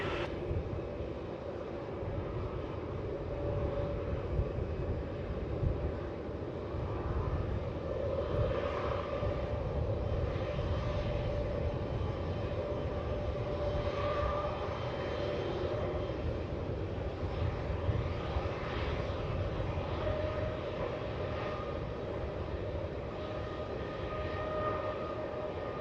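Qantas 432, an airliner departing Melbourne Airport, rumbles as a steady, fairly faint, distant engine roar that holds for the whole stretch with no voices.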